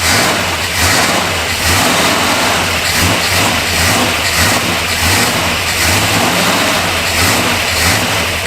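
A worn-out Ford F250 pickup truck engine running loud and close, rumbling continuously with repeated rises and falls as it is revved over several seconds, no talking.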